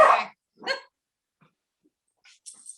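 Two close, sharp barks from a dog, spaced apart, followed after a pause by fainter, higher yelps in the distance.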